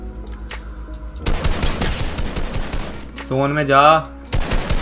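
Gunfire in Fortnite ending in a headshot: rapid close automatic shots in a dense burst, then more shots after a pause, with someone speaking briefly in Hindi over the game sounds.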